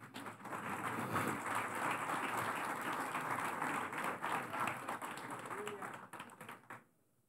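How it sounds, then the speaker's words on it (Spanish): Church congregation applauding together, a dense steady wash of clapping that holds for about six seconds before fading out abruptly near the end. "¿Le puede dar un aplauso al Señor?"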